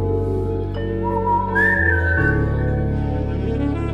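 A person whistles a sustained, wavering melodic tune for a birthday song, the pitch sliding up and holding, loud and close with no talking.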